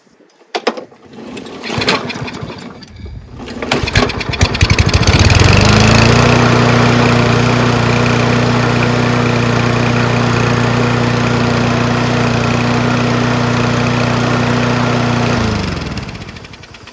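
A Kohler engine on a Toro Recycler XT675 lawn mower, being repaired in winter, sputters and catches after a few rough attempts, then runs steadily and loudly at close range before shutting down near the end.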